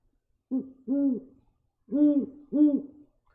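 A captive great horned owl hoots in two pairs of deep, resonant calls, close and clear with a brief pause between the pairs and silence around them.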